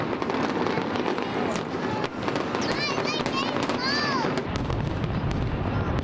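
Macy's Fourth of July fireworks show bursting in a rapid, continuous barrage of loud booms and crackles, with whistling rockets rising through it and a large crowd cheering and talking throughout.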